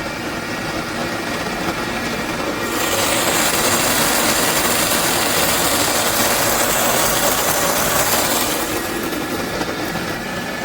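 Coffee beans grinding in a machine: loud, continuous gritty grinding whir that grows harsher partway through, close and steady with no speech.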